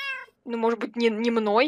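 A tamed cat in a Minecraft village gives a short, clear meow at the start, followed closely by a person talking.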